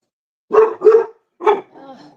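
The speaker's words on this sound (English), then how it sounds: "I get why they're barking because it was weird." Dogs bark close by in three quick, deep woofs, trailing off into a softer whine at the end, with quiet before and between the barks.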